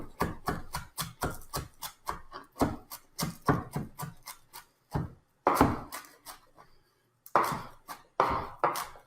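A large knife minces fresh cilantro on a cutting board in rapid, rhythmic chopping bursts, close and crisp, with brief pauses between runs of strokes and no talking.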